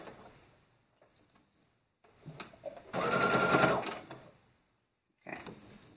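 A sewing machine stitches a maxi dress, running in a steady whirring burst of about a second after some quiet fabric handling and a few clicks, then stopping before a brief rustle.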